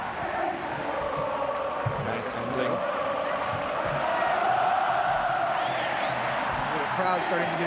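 Crowd noise at an Argentina vs Chile under-20 South American Championship football match in 2013, a steady roar of spectators building slightly with scattered shouts, continuous throughout with a commentator's voice over it.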